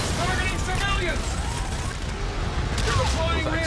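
Explosions and gunfire in the Call of Duty: Infinite Warfare campaign, a dense, steady barrage of booms and shots with in-game voices talking over the noise throughout.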